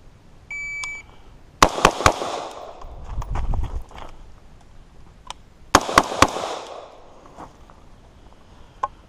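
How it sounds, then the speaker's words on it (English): Two quick bursts of AR rifle shots fired downrange, each starting with a sharp crack and followed by several more rapid reports, with a shot-timer beep near the start and quiet gaps between. "We put some extra rounds down range on that one."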